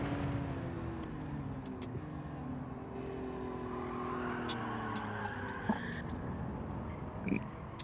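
A street car in the Gran Turismo 7 racing game, engine note rising and falling through gear changes with tire squeal and skidding, fairly quiet, plus a couple of brief clicks near the end.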